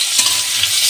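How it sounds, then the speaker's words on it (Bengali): Onions dropped into hot oil in a wok for a fried taro-stolon dish, producing a loud, close, steady hissing sizzle with no talking. "আমি এখন পেঁয়াজ দেবো। পেঁয়াজ দিয়ে দিলাম কড়াইয়ের মধ্যে।"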